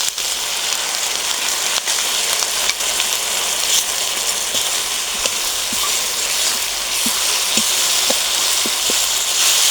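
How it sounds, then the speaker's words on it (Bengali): Dried red chili paste frying in a pan with ginger-cumin paste and fried onion and garlic for a mutton curry, a steady close sizzle with faint scraping stirs, no talk. "এখন দিয়ে দেবো শুকনো লঙ্কা বাটা।"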